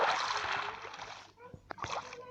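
A player jumps into water in Minecraft: a loud, broad whooshing splash lasts over a second, then fades into a few softer gurgles and bubbly plops.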